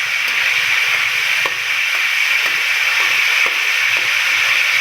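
Beef tikka boti sticks frying in very hot ghee give off a loud, steady close-up sizzle and hiss, with faint intermittent clicks and stirring knocks underneath and no voices.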